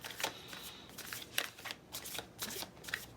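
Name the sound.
shuffling tarot cards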